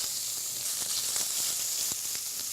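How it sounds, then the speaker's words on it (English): Chopped bacon sizzles and fries steadily in a pan for a sauce, a continuous close hiss with a few soft pops and crackles, no voices. "I got some bacon chopped up. Just going to brown that off."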